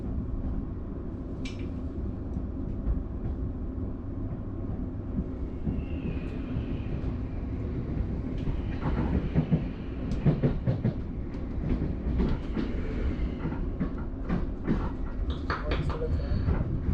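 A South Western Railway passenger train rumbles steadily along the rails between Weybridge and Virginia Water, with rattling and clacking over the track and a brief high tone early on.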